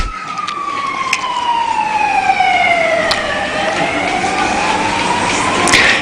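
A fire engine or ambulance siren wails loud and close as the vehicle races down the road, its pitch sweeping in long continuous glides with no voices.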